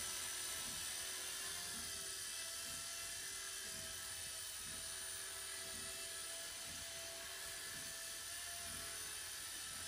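A beginner drone hovers after its first takeoff in low mode, giving off a steady high-pitched electric buzz from its small propellers, close and constant throughout, with no voices.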